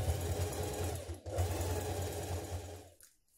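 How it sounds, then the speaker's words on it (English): Top stitching a band to the armhole of a dress, a sewing machine runs in a steady close hum, breaks off briefly, resumes, then stops near the end. "top stitch the band to the armhole so the seam is pressed up towards the dress"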